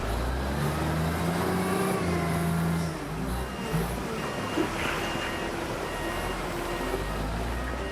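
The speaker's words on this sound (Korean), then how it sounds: "주로 덤프트럭에 가득 실어서 이동하게 되는데, 건설 현장으로 들어가는 덤프트럭을 많이 보셨을 겁니다." A dump truck loaded with aggregate rumbles along at a quarry, with a steady heavy engine drone, a tonal beep and mechanical rattling, fairly close and continuous.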